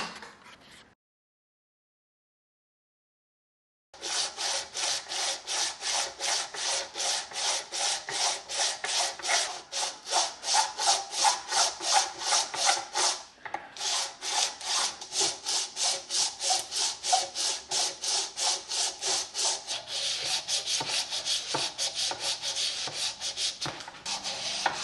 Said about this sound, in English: So let me get some fresh sandpaper on here and we're going to see what we can do with this.